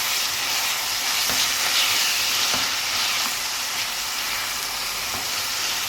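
Onions and ginger-garlic paste frying in a pan for mutton curry, a steady close hiss and sizzle with faint occasional stirring clicks, no talking over it.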